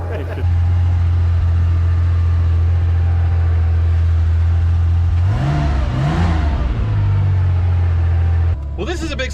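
A Porsche 911 Turbo Carrera under restoration idles with a steady low engine drone, rising briefly in a couple of revs near the middle before settling, then cutting off near the end.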